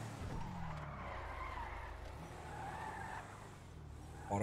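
A car skids during aggressive driving in GTA V, its tires squealing in a sustained, wavering screech over a deep engine rumble that runs unbroken throughout.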